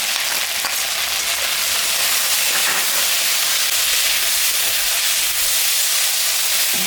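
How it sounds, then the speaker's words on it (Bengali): Steady, loud sizzling hiss from a pan of frying food after salt and turmeric go in, continuous and close throughout with no talk. "ভাজা ভাজা হয়ে গেছে আমি এখন স্বাদ মতন লবণ আর পরিমাণ মতন হলুদটা দিয়ে দিই"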